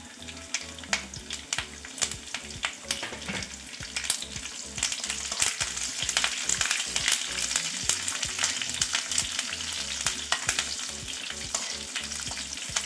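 Curry leaves and asafoetida sizzle and crackle in hot oil for a South Indian tempering, a steady loud frying hiss with bursts of popping and occasional stirring, no voices.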